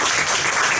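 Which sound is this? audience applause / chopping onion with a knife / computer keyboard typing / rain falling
audience applause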